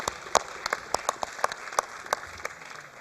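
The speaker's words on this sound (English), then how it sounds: "Please, let's give a round of applause." A small group claps steadily for a few seconds at a bank's annual general meeting, sparse distinct hand claps rather than a roaring crowd, heard from nearby.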